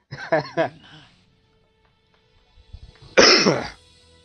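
A vocal sound early on, then after a pause a sharp, harsh cough bursts out close by, fairly loud.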